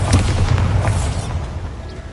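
A Bombarda spell explodes in a Harry Potter video game, giving a loud, booming blast with a low rumble that rings briefly and then fades over a couple of seconds.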